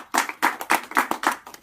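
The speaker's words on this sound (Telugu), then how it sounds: "మరి అతనికి ఒకసారి గ్రాండ్ క్లాప్స్ ఇవ్వండి" Clapping from an audience at a talk: about seven sharp, evenly spaced claps at a brisk rhythm, close and fairly loud, with no voices.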